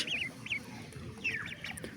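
Several high, thin peeping calls from young domestic ducklings, in short bursts over a quiet, rustling background.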